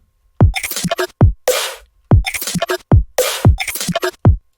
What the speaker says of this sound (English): I used some kind of glitchy textured percussion noises